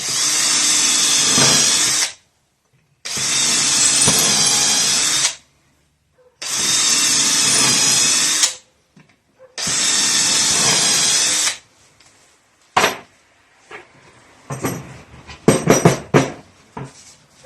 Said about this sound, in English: you can just drill through.